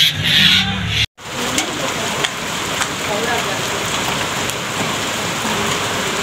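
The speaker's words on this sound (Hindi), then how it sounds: "जैसे हम होटल में पहुंचे थे बहुत तेज़ बारिश हो गई थी" Heavy rain pouring steadily outside a hotel, a dense loud hiss of drops on surfaces that runs throughout after a brief opening burst of other sound and a short silent gap.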